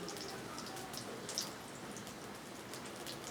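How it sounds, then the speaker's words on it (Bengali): Bread sandwiches filled with potato and egg frying in hot oil, a faint, even hiss with tiny crackles, steady throughout and heard alone. "আমার তেল গরম হয়ে গেছে এর মধ্যে আমি স্যান্ডউইচগুলো দিয়ে দিলাম"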